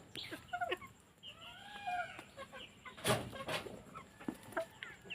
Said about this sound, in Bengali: বিভিন্ন জাতের 3 জাতের মুরগি আমি পালতেছি বর্তমানে